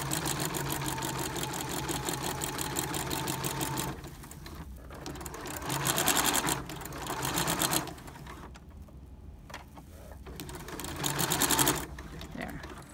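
A sewing machine stitching fabric in a home DIY summer sewing project, its rapid steady needle chatter running alone, stopping and restarting in several loud bursts.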